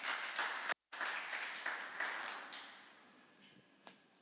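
Church congregation applauding during a worship service, moderate clapping with a brief dropout, fading and thinning out over the last seconds.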